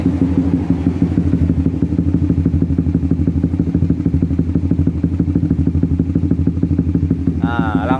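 A Honda CBR 150 motorcycle idles close by with an uneven, stuttering beat, its loud pulsing engine note running steadily throughout, and a short voice-like sound comes in near the end.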